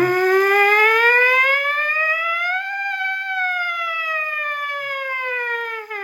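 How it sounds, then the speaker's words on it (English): A buzzing trumpet mouthpiece sweeps slowly upward in pitch, then glides gradually back down, a steady siren-like tone played alone and close. "any sort of like siren exercise that you could do with the mouthpiece"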